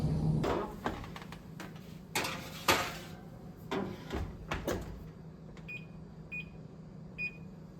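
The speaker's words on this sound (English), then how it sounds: "Now they're going to go into my oven, which is preheated at 275" Kitchen handling at a home oven while cheese crisps go in to bake: a run of clunks, clatters and knocks from the oven door and pan, followed by a few short electronic beeps, close and moderately loud.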